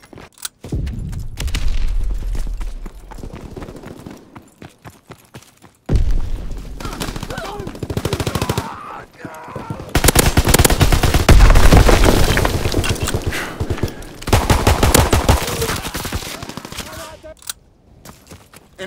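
Aircraft gunfire rakes the ground during an enemy strafing run in the World War II shooter Call of Duty WWII, with loud bursts of rapid shots and booms between quieter stretches and brief voices.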